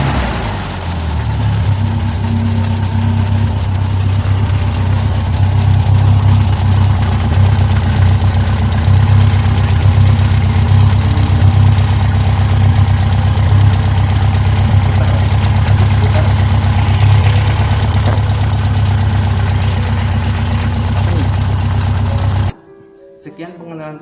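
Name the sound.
Toyota Kijang engine started and idling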